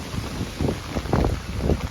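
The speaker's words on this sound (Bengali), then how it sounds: "হাওয়ার দাপট রয়েছে" Strong wind gusting outdoors beside a busy highway in a New York evening, a steady broadband roar with louder gusts swelling near the middle and end, close and buffeting.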